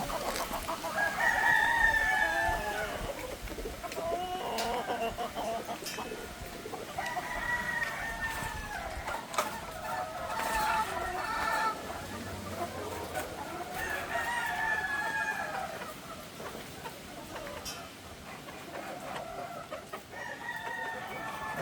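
Boston Black chickens cluck and crow close by in a yard, with a rooster giving several drawn-out crows at intervals among scattered hen clucks and faint background noise.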